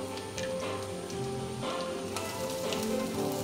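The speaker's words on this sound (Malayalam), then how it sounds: "ഞാൻ സവാള ഇടാൻ പോകുന്നു." Sliced onions hit hot oil in a pan while cooking channa roast, giving a steady close sizzle with crackling ticks throughout, no voices.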